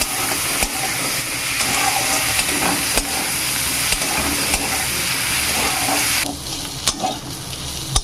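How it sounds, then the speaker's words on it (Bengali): Prawns frying in oil in a kadai, a steady loud sizzling hiss with scattered crackles and brief clinks, no voices; the sizzle eases somewhat toward the end. "মাছগুলোকে খুব ভালো করে ভেজে নেব প্রথমে"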